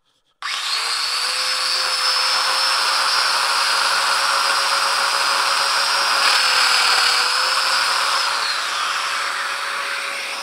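A domino joiner with a 5 mm cutter plunges into wood for a 5 by 30 domino at 15 mm depth, giving one loud, steady, high motor whine that holds for about ten seconds with no talking.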